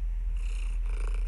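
A soft, steady low rumbling purr, close and continuous, made by a person imitating a cat rather than a real animal.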